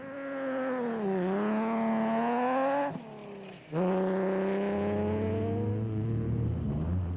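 Rally car engine from a Plaster Tech race car in the Toyota 1000 event, revving hard with rising and falling pitch, a brief drop around a gear change, then climbing again, loud and close.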